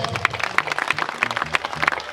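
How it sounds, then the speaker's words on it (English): Audience at a Roots Festival gala dinner and awards ceremony in the Gambia applauds, a brief burst of scattered clapping from the room. "A round of applause."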